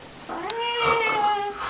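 A kitten gives a single drawn-out meow with a rising and then falling pitch, close and clear over a quiet background.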